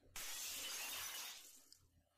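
A mirror is smashed with a chair: one sudden loud burst of shattering glass that crashes at once, then tinkles and fades over about a second and a half, with no voices.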